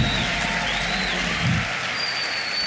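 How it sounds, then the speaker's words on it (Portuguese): A church congregation applauds in a steady, dense wash of clapping, loud and continuous throughout, with no voices over it. "Uma salva de palmas, gente."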